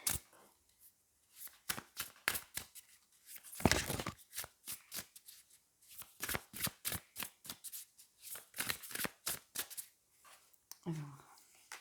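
Tarot cards being shuffled and handled, a close series of crisp riffling and snapping bursts in irregular rhythm, with a brief soft voice near the end.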